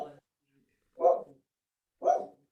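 Dogs kept in a back room bark twice, with short clipped woofs about a second apart that sound somewhat muffled and distant, plus a brief voice at the start.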